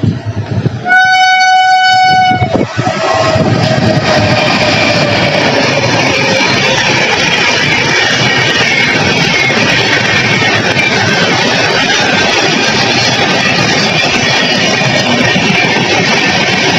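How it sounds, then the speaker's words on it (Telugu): Chennai Central–Nizamuddin express arriving at Peddapalli railway station, opening with a long, loud horn blast that gives way to a steady, heavy rumble and clatter of carriages rolling past close by for the rest of the clip. "మనకు ప్రజెంట్ పెద్దపల్లి రైల్వే స్టేషన్లో ట్రైన్ వస్తుంది చూడండి."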